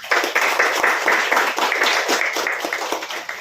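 A crowd at a Mukesh Himatsingka Foundation program breaks into loud, dense applause. Many hands clap together, a little uneven, and the sound stays strong for a few seconds before easing slightly.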